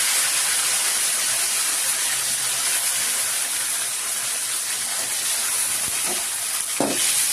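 Tomatoes go into a pan of sautéed onions, giving a steady, close frying sizzle and hiss throughout, with a couple of brief utensil knocks near the end.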